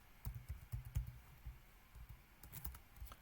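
Rapid, uneven keystrokes on a computer keyboard, close and fairly quiet, with short bursts of clicking and small pauses between them.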